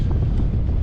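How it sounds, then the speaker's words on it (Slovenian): Wind blows hard at sea aboard a sailboat moored off the Maldives, a loud, low, constant rumble of gusts buffeting the microphone with no other sound. "čista bonaca je bila, zdaj pa že piha"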